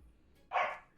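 A dog gives a single loud, close bark halfway through, standing out alone over a quiet room during a Halloween event in a video game.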